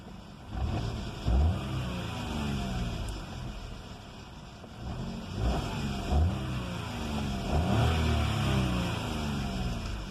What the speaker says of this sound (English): let's actually give it a few revs as well, just to show you what it sounds like